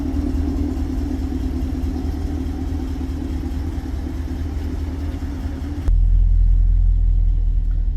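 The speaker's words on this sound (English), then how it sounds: "It's not that loud at idle. It has just a perfect healthy sound." A 2013 Chevrolet Camaro ZL1 with Corsa exhaust and headers idles nearby with a steady deep rumble, shifting to a heavier, lower drone partway through.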